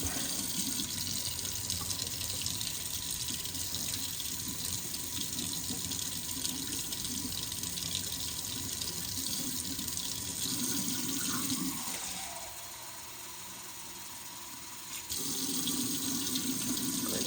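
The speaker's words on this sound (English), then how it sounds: "I'm going to let the water run for just a minute so it gets a little bit warm" Water runs steadily from a kitchen tap to warm up, a constant close hiss that dips briefly quieter partway through before resuming, no voices.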